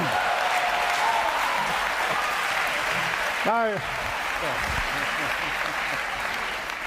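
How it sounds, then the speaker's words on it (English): A lecture audience applauds in a broad, dense wash of clapping that continues steadily while someone briefly speaks over it. "it's very kind of you to clap, but that proves nothing."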